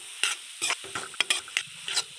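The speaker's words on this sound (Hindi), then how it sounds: "मिक्स कर लेंगे इसको" Spoon stirring potato masala with garam masala in a frying pan, about seven short scraping strokes in an uneven rhythm over a faint sizzle, close and clear with no talk.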